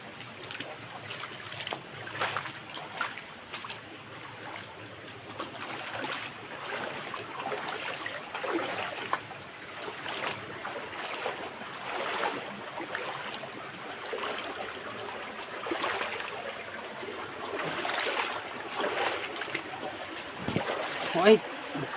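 River water while crossing a river on foot, a soft rushing and trickling flow with splashy surges, fairly faint and continuous under occasional voices.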